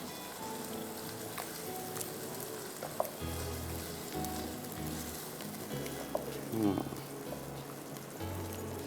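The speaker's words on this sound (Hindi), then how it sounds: "इस स्टेज पे इसकी सही तरह से हम भुनाई करेंगे ताकि टमाटर और प्याज और इसमें जितने भी मसाले हमने डालें वो" Tomato, onion and spices for chicken handi sauté in a pot, a soft steady sizzle with occasional stirring scrapes, fairly quiet, with a faint voice in the background.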